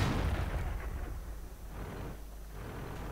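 A KV-1 tank cannon shot in World of Tanks: a heavy, booming blast with a broad rumbling tail that stays loud and fairly steady throughout, with no voices.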